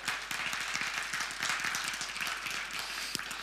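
Audience applause at an Italian association meeting as the newly named coordinator, Giovan Battista Mollicone, stands up; steady, dense clapping fills the room at moderate loudness without any voices.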